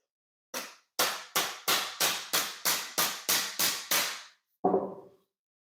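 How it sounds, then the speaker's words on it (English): A series of ten sharp, evenly spaced knocks from a rubber mallet tapping something into place, followed by one duller thud. "non-marring hammer, rubber hammer."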